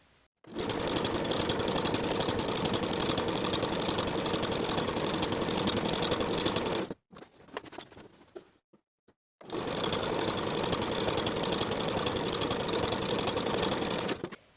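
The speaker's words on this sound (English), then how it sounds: "we're going to sew on the wrong side of the fabric along each of those pinned upper folded edges of the pin tucks" A sewing machine stitches narrow pin tucks on the wrong side of a blouse sleeve, two long loud close runs of steady whirring separated by a brief pause with faint handling noise.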